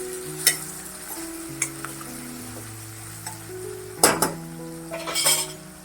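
Chili pieces stir-frying in a pan for Hakka noodles, a steady sizzle broken by sharp clinks and scrapes of a metal spoon against the pan, with faint background music underneath.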